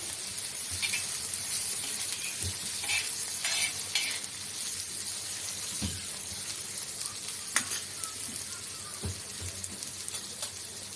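Drumstick pods being stirred and mixed in a hot pan, a steady sizzle of frying with scattered clinks and scrapes of a spoon against the metal, close and continuous, with no talking.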